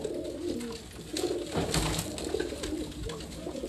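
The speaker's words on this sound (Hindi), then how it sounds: "ये कबूतर दोस्त ने भेजे हैं भाई साहब।" Pigeons cooing close by, soft throaty low calls repeating over a rustling background.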